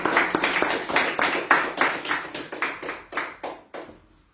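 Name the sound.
congregation applauding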